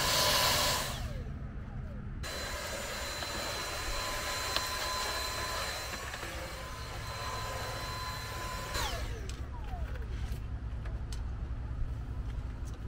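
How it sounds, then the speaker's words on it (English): A cordless Dyson vacuum cleaner runs with a loud, steady whine, changing pitch as it starts and powers down, then continues at a lower hum, outdoors at a campsite. "Eric is talking about my Dyson vacuum."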